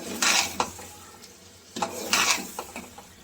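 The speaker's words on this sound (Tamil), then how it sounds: "நல்லா அந்த மசாலாவோட பெரட்டி விட்றோங்க" A spoon stirs chicken biryani with masala in a metal pot, giving a few scraping, clattering strokes in separate bursts with brief pauses between.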